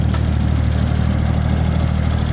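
A Kubota L2402 tractor engine runs steadily while mowing short grass, a loud, constant mid-pitched drone with a low rumble and no voices.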